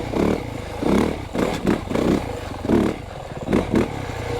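A 2025 Yamaha YZ450FX 450cc off-road motorcycle engine on rough terrain, pulsing in repeated bursts of throttle with clattering, near and fairly loud.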